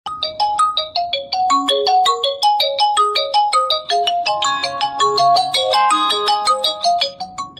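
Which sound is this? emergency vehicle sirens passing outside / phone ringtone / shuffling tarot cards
phone ringtone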